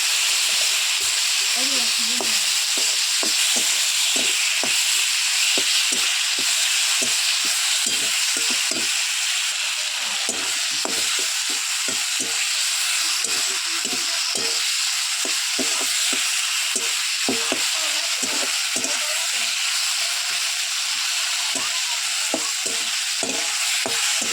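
Tomatoes tipped into a pan of already-fried onions sizzle loudly and steadily, with a hissing, steamy fry running the whole time and repeated scraping stir strokes close by.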